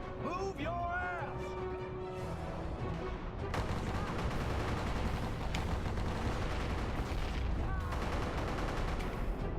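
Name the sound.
gunfire in a video game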